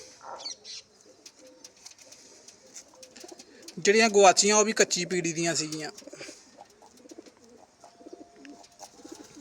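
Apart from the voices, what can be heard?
pigeon cooing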